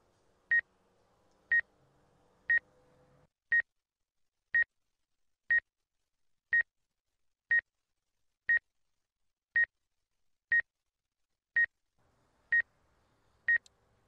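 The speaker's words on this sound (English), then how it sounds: "I'm being told people are complaining about a beeping." Steady electronic beeping during a DJI M300 RTK drone flight demo, a single clear tone repeating about once per second, sharp and regular, with faint low background noise early on and no speech.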